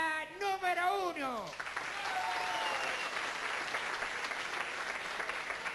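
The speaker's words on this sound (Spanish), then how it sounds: "aplausos para la número uno" A voice rises briefly, then an audience breaks into sustained applause at a contest announcement, a broad, even wash of clapping that continues to the end.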